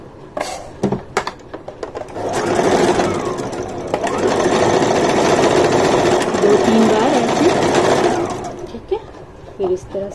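A sewing machine stitches pieces of men's underwear fabric together in a steady, loud whir lasting several seconds, with softer handling noises before and after.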